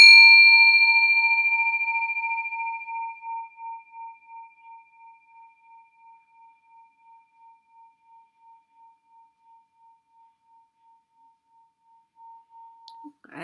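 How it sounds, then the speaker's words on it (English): A dragon lucky bell is struck once and rings alone with a clear metallic tone, whose bright overtones fade within seconds while the fundamental hums on and slowly pulses away to near silence over about twelve seconds. "This is like a dragon lucky bell. It's just clear the air."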